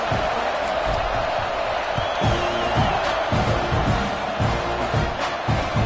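Stadium crowd in a college football video game roaring and cheering steadily at full volume, with thumping hits and whoops over a constant wall of noise.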